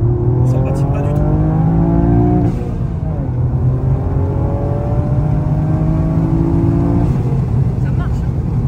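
A car engine with a raspy, husky note accelerates loudly, its pitch climbing through gears with a brief drop and rise again, heard up close with no clear talk.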